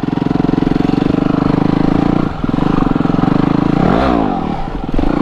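An off-road trials motorcycle engine revs hard and steadily up close during a wheelie on a Japanese trail, with a pulsing mid-range drone, a brief dip, then a rising rev before settling again.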